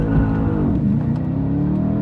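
An Audi B8 RS5 launches hard, its engine revving and climbing through a short burst of acceleration with tire spin, loud and close.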